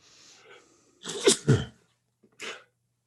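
Someone sneezes twice in quick succession, close and loud, followed a moment later by a short sniff or small exhale.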